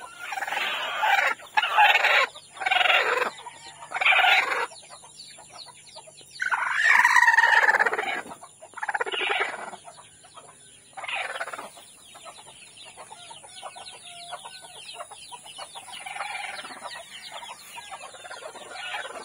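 Chickens cluck and gobble in bursts outdoors in grassy surroundings, loud close calls first, then quieter scattered clucks amid a steady high insect-like hiss.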